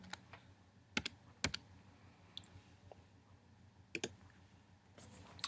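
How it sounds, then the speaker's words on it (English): Quiet, close keyboard typing as a Windows product key is entered on a Mac, scattered clicks and short clusters of keystrokes with pauses between them. "you can go ahead and type that in."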